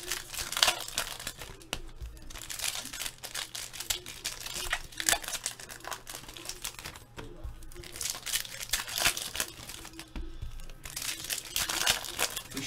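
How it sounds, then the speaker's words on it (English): Foil football trading card packs are ripped open one after another, a busy run of close crinkling, crackling and tearing that keeps going with brief pauses, no voices. "Just gonna rip all these open"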